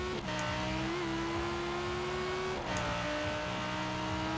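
Engine note of an Italdesign supercar in Forza Horizon 4, a steady droning tone that dips briefly around gear changes, loud and close, with no talk over it.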